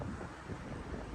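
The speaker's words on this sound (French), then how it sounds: "Désolé pour le vent." Wind buffets the microphone outdoors during a Toyota Aygo 1.0 VVT-i test drive, a steady rumbling roar with no talk over it.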